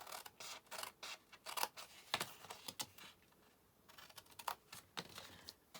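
Scissors snip the corners off a paper gift box, a quiet series of crisp, irregular cutting clicks and rustles, close up with no talk.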